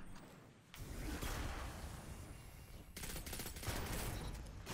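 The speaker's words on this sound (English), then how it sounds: "the pulse rifles are kind of good right now. Look at this. That's a 3 burst." A pulse rifle, the Redrix Broadsword, fires rapid three-round bursts in Destiny 2 Shadowkeep: dense, loud, close volleys of gunfire running almost continuously, with a short pause between strings of shots.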